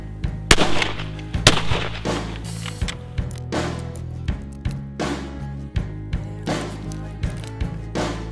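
Reloaded Winchester Super Target 20 gauge hull fired from a shotgun: a string of sharp, loud reports with hard transient cracks, mixed with thuds and handling knocks across the clip.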